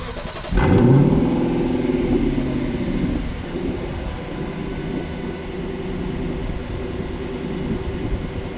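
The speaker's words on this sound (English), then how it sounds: "let's fire that V8 into life and take this baby on the road" A 2021 Lexus LC500's 5.0L V8 fires up with a sharp, loud burst, then settles into a steady, rumbling idle and low drone as it begins to drive off.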